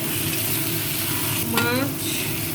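Onion paste sizzles and fries in a pan while being stirred, a steady close crackling hiss with a brief scraping stir midway.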